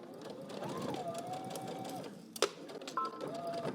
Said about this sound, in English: I'm gonna stitch until I get to my dot.